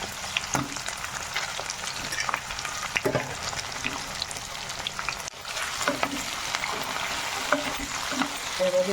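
Potatoes and capsicum fry in a pan for a paneer sabji, a steady close sizzle with stirring scrapes and clinks running throughout, no talking.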